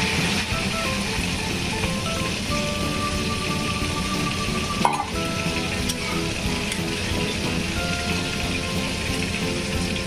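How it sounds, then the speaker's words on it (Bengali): Water pours and sizzles into a pan of rice fried with spices for a katla fish dish with elephant apple, a steady rain-like hiss running throughout with a brief louder splash midway. "জল দিয়ে দিয়েছি"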